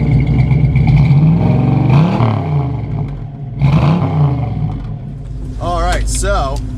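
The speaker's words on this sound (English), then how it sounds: "now that we got the exhaust on, and it sounded pretty killer" A 1969 Camaro with a new loud exhaust rumbles deep and close, its revs swelling and falling twice before a voice briefly joins near the end.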